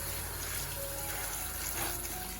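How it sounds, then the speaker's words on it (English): Spinach leaves being washed under a running kitchen tap, a steady close rush of water that runs throughout, with slight splashing variations. "Then we will wash it thoroughly to make sure that there is no more dirt in it."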